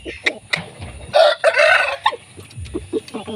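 A free-range chicken close by gives a string of short clucks, broken by a louder, drawn-out squawk in the middle.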